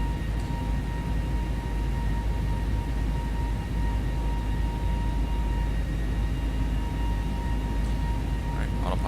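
A steady, droning cabin hum from an A320neo airliner cruising at 33,000 feet in the X-Plane 11 flight simulator, with a low roar and a faint tonal whine running unbroken throughout and no talk.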